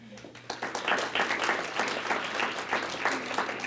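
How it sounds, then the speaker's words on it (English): An audience gives a speaker one more round of hand clapping at an evening event, with loud, distinct individual claps rising quickly and holding steady throughout. "Can we give her one more hand clap?"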